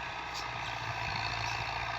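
A Fiat 640 tractor engine runs steadily close by, a loud continuous mechanical drone with no pauses or voices.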